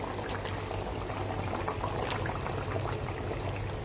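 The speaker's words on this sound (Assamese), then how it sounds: "চব্জিটো উতলি আহিছে আৰু চব্জিটো মাছটো দি দিছোঁ" A pot of vegetable and fish curry boiling, giving a low, steady bubbling and watery churn that holds constant throughout, fairly faint and with no talking.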